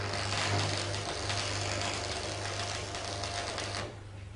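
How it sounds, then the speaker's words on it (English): Stick electrode tack welding at one end of clamped parts, a steady close crackling sizzle with dense irregular pops and a low hum throughout, cutting off near the end. "Tack weld as before at one end."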